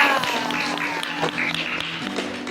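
A studio group claps for a guest on a school podcast, brief scattered applause under a background music bed, fairly close and moderately loud.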